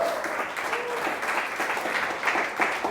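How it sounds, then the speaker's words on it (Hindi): A church congregation claps loudly in thanks during a worship service, a dense and sustained burst of applause from many hands that holds steady throughout. "बोलो जोरदार ताली बजा के उसको दामन यीशु में धन्यवाद करें"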